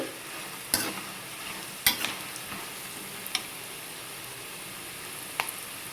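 Ivy gourd pieces fry in a pan with a soft continuous sizzle, broken by a few sharp clicks of a spatula stirring against the pan.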